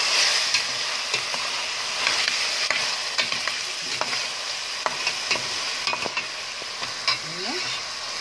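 Dried white beans with meat being stirred in a pot, a steady sizzle of frying under repeated scraping and clinks of a spoon against the pot, close up with no talking.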